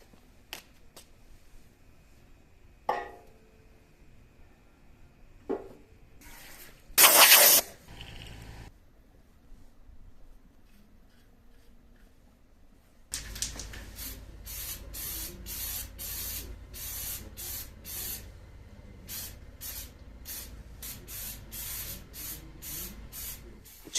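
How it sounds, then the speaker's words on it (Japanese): Aerosol chipping coating sprays onto the rust-treated underside of a Honda Cub frame near weld marks: a brief loud hiss, then a long run of short, rapid close spray bursts. "裏側はチッピング塗装していきます"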